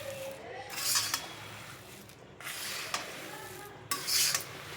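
A spoon scrapes and stirs puffed rice tempering with peanuts in a pan, three separate bursts of rasping, rattling stirring with short pauses between them.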